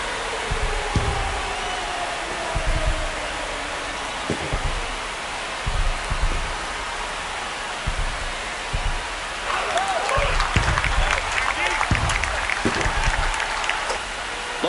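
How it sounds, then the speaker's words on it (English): A baseball stadium crowd at a Texas Rangers vs Baltimore Orioles game roars and applauds after a home run into the bleachers, a dense, sustained wash of cheering that swells toward the end. "And that one's gone into the bleachers. And just like that, they're within a run. Here comes the crowd."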